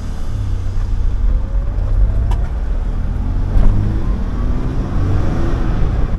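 A Toyota 3.4L engine in a revived vehicle runs smoothly while driving, giving a loud, steady, low motor drone with road and wind rumble throughout and no talk.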